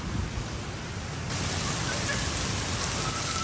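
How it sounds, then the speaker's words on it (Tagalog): Heavy rain pours down steadily in the Philippines, a dense, continuous hiss that grows slightly louder partway through, with no voices over it. "Grabe ulan."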